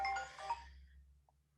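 A mobile phone ringtone plays briefly and faintly during a talk, a short tonal burst that fades out quickly into near silence.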